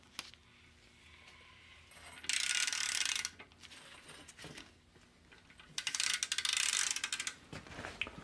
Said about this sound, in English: let me reinstall my bolt here